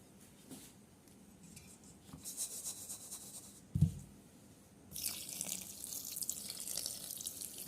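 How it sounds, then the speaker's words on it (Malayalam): Water is poured into salted puttu rice flour in a vessel. Soft handling sounds come first, then a steady, close, hissing pour runs through the second half with no talking. "വെള്ളം ഒഴിച്ചു കൊടുക്കാം"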